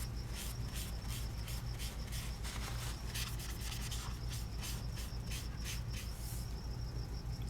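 Steady, quiet rubbing of an eraser scrubbing Copic Acrea marker ink off Grafix Dura-lar film, a fast rhythmic scratchy friction close to the mic with no talking.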